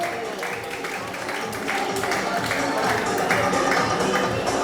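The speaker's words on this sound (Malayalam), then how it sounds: "നല്ലൊരു കൈയടി മഹാബലി തമ്പുരാന്റെ കയ്യിൽ നിന്നും" An audience at an Onam programme in Kasaragod claps during a prize-giving, a sustained, fairly loud patter of many hands that swells slightly, with a voice faintly underneath.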